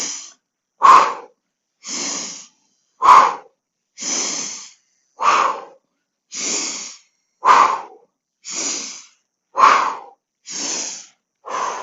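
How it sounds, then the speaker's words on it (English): Deep diaphragmatic breaths taken during a Pilates mat exercise, about eleven full inhale and exhale cycles in a steady rhythm, each a loud, close, airy rush with brief pauses between and no talking. "Deep diaphragmatic breathing."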